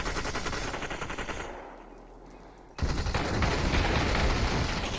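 MP5 submachine gun fire in the VR game Population: ONE, rapid loud automatic bursts that cut out briefly for about a second, then resume in a sustained rattling stream.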